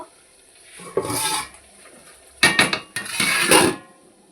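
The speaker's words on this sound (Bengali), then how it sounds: "এখানে আমি একটা কড়াই বসিয়ে দিয়েছি।" A metal kadai wok is set down on a kitchen stove, giving a few close clanks and scraping metallic clatters in separate bursts, with no talking.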